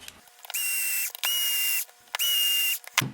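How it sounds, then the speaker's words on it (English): An electric screwdriver drives screws into an Axial Yeti RC kit wheel in three separate whirring bursts, each about half a second long with short pauses between, close and clear. "Punch them down with the electric driver."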